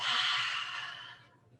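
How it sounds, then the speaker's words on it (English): A person in a yoga class lets out a long, breathy 'HA' exhale through the mouth. It starts strong and fades out over about a second. "take a deep inhale in through your nose, and a big HA breath out through your mouth"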